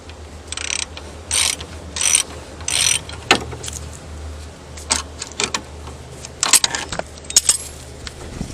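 Socket wrench with a 19mm socket, with vice grips holding the top, loosening the wheel upright bolt on a Porsche Boxster; several bursts of close ratchet clicking separated by short pauses, with no talking.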